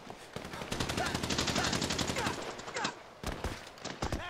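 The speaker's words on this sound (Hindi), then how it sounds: "कैसे गोली चला रहा है वो मेरे पे?" Rapid bursts of automatic gunfire in the video game GTA 5 crackle in dense volleys, then a few scattered single shots follow after a brief pause, loud and close.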